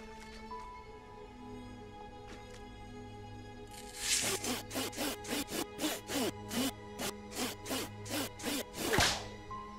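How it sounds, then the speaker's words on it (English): A stick pushed back and forth to saw through material while exploring old grounds gives about a dozen quick, rhythmic rasping strokes, starting after a few seconds of quiet with faint knocks and ending in a louder final scrape. "Gotta move the stick backwards and forwards in order to saw, do the actual sawing motion"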